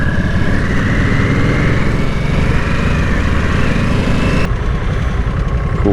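Engine of a 2022 Harley-Davidson Nightster motorcycle while riding, a steady loud low rumble with wind roar throughout, the tone dropping slightly near the end as the throttle eases.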